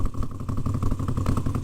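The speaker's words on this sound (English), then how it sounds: "A V7 exhaust uncorked, and that's only on one side." A Moto Guzzi V7 motorcycle with its exhaust uncorked on one side rumbles at a steady, deep, throbbing idle, close and continuous throughout.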